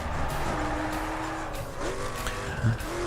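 A car in the racing game The Crew corners hard, its engine droning while the tires squeal in rising, wavering whines. The sound runs continuously for a few seconds with no talk over it.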